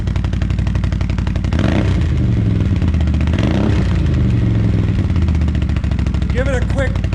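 A 2019 Can-Am Outlander 650 XMR ATV fitted with a Yoshimura slip-on exhaust idles loudly and close, then revs up in a couple of rising bursts before settling back, with brief voices near the end.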